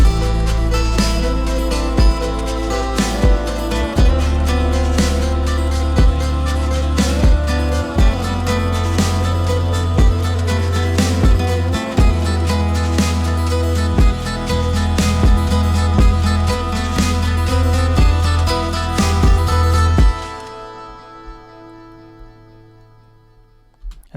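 Layered electric guitar parts from the outro of a song play together in a dense, loud mix with steady rhythmic strums for about twenty seconds, then stop and let the final notes ring out and decay.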